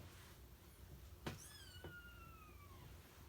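A mother cat with a litter of kittens lets out a single drawn-out meow that falls in pitch, faint and somewhat distant in a quiet indoor room, just after a brief knock.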